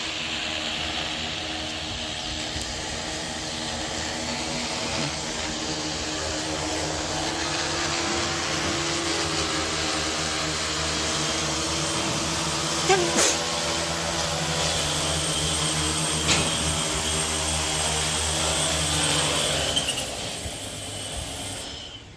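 A Tarot 650 drone's propellers keep up a steady, loud buzzing whine as it comes in to land, unbroken for about twenty seconds with slight swells near the end.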